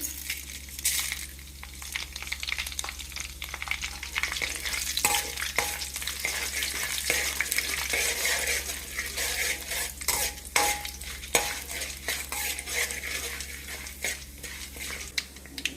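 Chana dal and urad dal fry in hot oil, a steady close sizzle with repeated stirring scrapes and light clinks of a spoon against the pan, no voices throughout.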